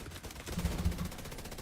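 Video-game turret fire in a shooter: a quick burst of low, thumping automatic shots clustered in the middle, fairly muffled and moderate in level, set against a busy game background with no talk.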